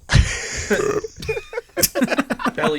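A big belly burp from a child erupts loudly at the start, followed by people talking and laughing close by.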